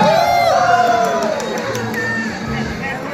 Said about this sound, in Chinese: 尖叫声扬扬。